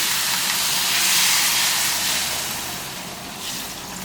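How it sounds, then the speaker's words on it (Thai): Water poured into a hot pan of spicy stir-fried fresh catfish curry gives a loud, steady steaming hiss that swells and then slowly fades, with a brief fresh burst near the end and no voices. "หลังจากนั้นก็จะใส่น้ำลงไปนะครับ"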